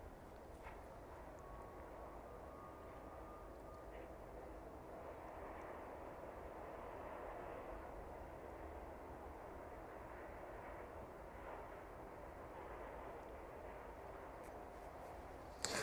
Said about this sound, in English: The Aerologic passing through